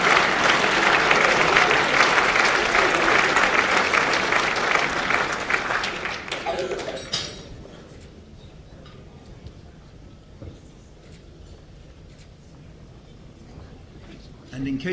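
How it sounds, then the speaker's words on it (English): Audience applause at a Chinese New Year 2016 event, loud and sustained broadband clapping for about seven seconds before fading to a low murmur with scattered claps. "So let's have a round of applause for Jodie Perry and Mei Sim Lai."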